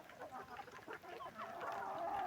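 Chicks and hens on a farm peep and cluck in a steady, busy chorus, with high chirps building toward the end and no voices over them.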